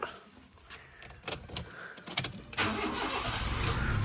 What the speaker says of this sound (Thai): เดี๋ยวเรามาฟังในส่วนของเครื่องยนต์กันบ้างดีกว่านะฮะ